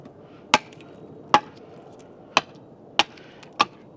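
Five sharp, distinct chops of a single bevel straight bitted axe biting into wood while rough carving an axe handle, spaced irregularly about a second apart, close and alone over a quiet background.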